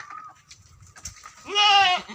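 A goat on a farm where kids are born gives a clear, loud, wavering bleat near the end, after quieter low rustling and faint bleats.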